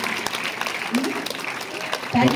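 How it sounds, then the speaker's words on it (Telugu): An audience claps at a school event at St. Mary's School in Narasaraopet, the applause a steady, fairly near patter for a couple of seconds that swells at the end. "శివరాజు గారికి పెద్ద క్లాప్స్ కొట్టండి"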